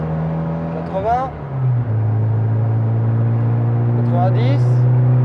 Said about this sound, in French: Avec de l'élan, ça accélère quand même beaucoup mieux